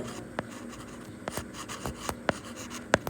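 Marker or chalk strokes on a board while a chemistry problem is solved, producing a few scattered sharp taps and scratches, fairly close, over a low steady room hum, with no talking.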